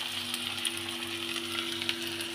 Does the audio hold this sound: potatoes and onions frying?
yes